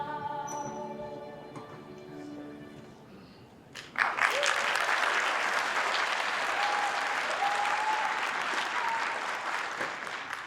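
Theatre audience breaking into applause during a musical play, starting abruptly after sung music and continuing as a loud, steady wash of clapping with a few faint tones over it.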